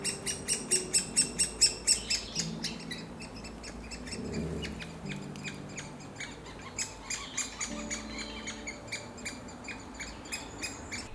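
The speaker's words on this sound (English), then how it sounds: "Some birds, like this great spotted woodpecker, have already got young, that beg constantly for food." Young great spotted woodpeckers beg for food in spring with rapid, high-pitched repeated calls. The calls come in rhythmic bursts that fade and resume, with other faint bird sounds in the background.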